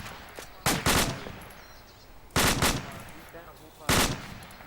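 Rifle shots from a fireteam live-fire drill crack out in three quick groups of two or three rounds each, loud and sharp, with ringing echo trailing after each group outdoors.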